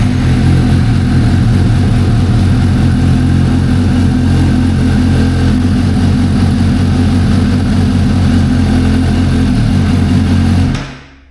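A Suzuki GSX-S750 motorcycle engine running at a steady, loud, close idle with a deep even throb for about ten seconds before cutting off abruptly.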